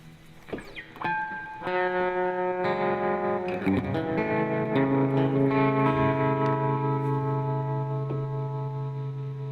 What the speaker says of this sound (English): We want the distortion back. And we want that lovely Fender tremolo effect back on.